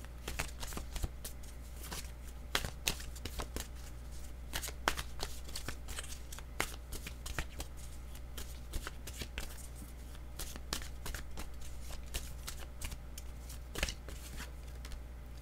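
Tarot cards being shuffled by hand, with quiet, repeated riffling snaps and soft slaps in an uneven rhythm, close by and with no talking.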